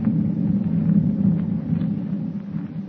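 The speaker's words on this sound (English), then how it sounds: "With thunder rolling across the dark ocean like a warning of impending doom, Clark Kent watches the minutes slip by" Thunder rolls across a dark ocean at night, a deep continuous rumble that swells and recedes without any sharp crack.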